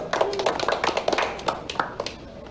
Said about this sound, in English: A round of applause for Nick Rayo.